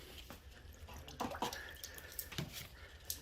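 Water splashes and trickles in irregular bursts at close range, with sharp wet slaps and dripping over a steady background hiss, as water is applied while wet sanding primer.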